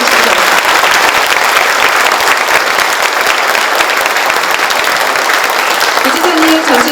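A room full of people applauds at a retirement ceremony for a provincial vice-governor, loud, dense and sustained clapping from start to finish.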